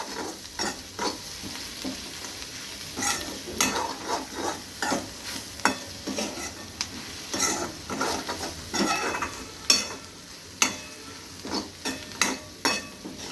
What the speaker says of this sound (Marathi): आता हे सगळं मिक्स करून घेणार आहे मसाला.